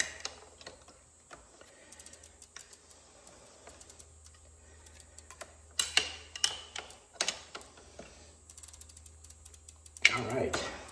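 A pedal wrench ratchets on a BMX bike during an upgrade, giving quiet scattered mechanical ticks that build into sharper clicking bursts midway and near the end.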